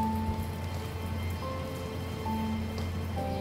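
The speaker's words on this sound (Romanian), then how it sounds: "Voi vedeți cum plouă?" Rain falls in downtown Toronto, a steady, even hiss of drops hitting the ground, with a low urban hum and faint street tones underneath and no one speaking.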